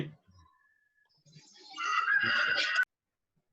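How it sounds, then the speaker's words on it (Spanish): A rooster crows once at a distance outdoors, a rising, hoarse call lasting about a second, with faint murmuring voices and room noise before it. "Son un gallo por ahí."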